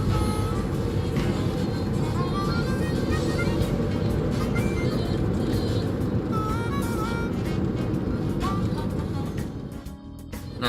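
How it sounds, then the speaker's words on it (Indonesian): A 2008 Toyota Yaris S with an automatic transmission is under kickdown acceleration on a busy road. Loud, steady broadband road and engine roar fills the cabin throughout, easing off near the end. "Sekarang gue bakal langsung kickdown mobil ini buat rasain performa mesin dan"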